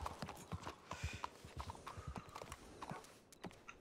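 Horse hooves clip-clopping in the RedM western role-play game, a brisk, continuous patter of hoof strikes heard close and fairly faint over a soft background.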